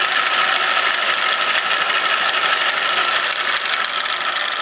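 Engine rumbles with a steady, loud, close mechanical rattle and hiss while running on its own recycled exhaust gases, unbroken throughout with no talk.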